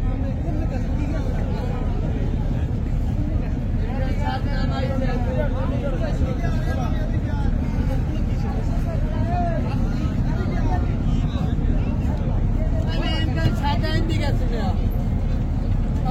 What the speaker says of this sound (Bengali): আমরা দেখতে পাচ্ছি লঞ্চটি কিন্তু বেশ ভালো পরিমাণ গতিতেই সামনের দিকে তেরে আসছে।